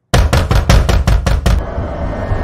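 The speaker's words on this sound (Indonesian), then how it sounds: "tiba-tiba terdengar suara ketukan pintu dari luar" A fast, loud run of about seven sharp knocks on a door from outside comes close and alone, then stops, leaving a faint hum.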